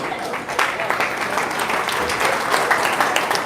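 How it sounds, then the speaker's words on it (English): An audience in a room claps to welcome a chief of operations, a steady patter of many hands with slight swells, while a voice speaks over the applause. "We don't remain seated. We clap."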